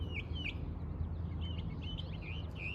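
In a spring garden, an unidentified songbird repeats bright, high whistled notes and short trills at a lively pace, moderately near, over steady low background noise without any voices.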